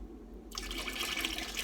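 Underglaze poured quickly onto a ceramic piece, a steady liquid splash starting abruptly after a brief quiet moment and continuing close and fairly loud to the end.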